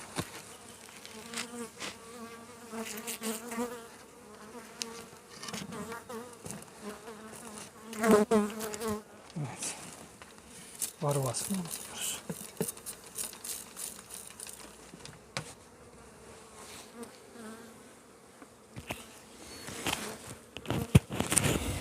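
Honey bees buzz steadily around an opened beehive, a dense close drone with individual bees passing near, punctuated by occasional light knocks and handling noises.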